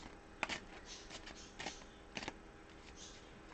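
Large tarot cards being shuffled close up, a few quiet papery riffles and snaps spread across a few seconds, faint and alone with no talking.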